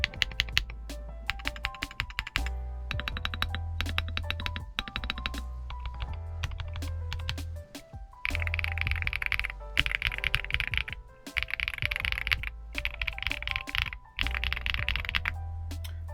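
Typing on a Redragon K709 65% mechanical keyboard with rounded keycaps: quick, close bursts of clacky keystrokes with a deep tone. Two brief pauses break the rhythm, and no voice is heard.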